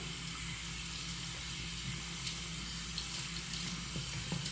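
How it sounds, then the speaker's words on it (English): Hot water runs steadily from a sink tap, a continuous, even rushing stream with no talk over it while the tap is left on to warm a washcloth. "So we want to get some hot water going"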